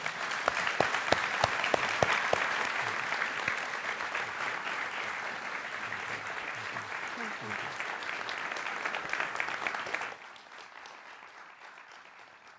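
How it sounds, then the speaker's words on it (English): An audience at an MIT community dialogue claps in a steady, dense round of applause for about ten seconds before it quickly dies away to quiet. "So please all just give a good round of applause to thank."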